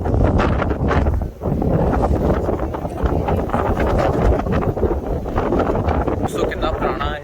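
Strong wind buffets the microphone on an estuary walkway near Invercargill, Southland, a constant loud rumbling roar that barely dips, with a voice talking underneath throughout.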